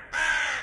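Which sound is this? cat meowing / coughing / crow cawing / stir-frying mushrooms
crow cawing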